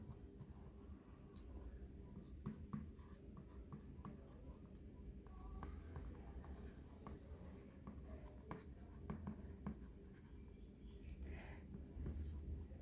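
Writing on a classroom board during a lesson, faint, continuous scratchy strokes with a teacher talking quietly over them.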